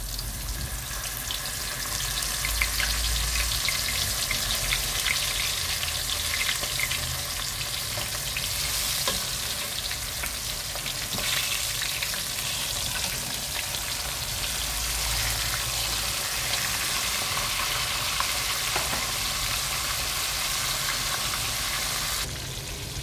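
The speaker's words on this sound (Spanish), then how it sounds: "ya tengo una cazuela con aceite ya muy muy caliente, entonces ahora la voy a meter a freír" Mojarra fish fries in very hot oil in a pot, giving a steady, loud, dense sizzle and crackle that holds without a break throughout.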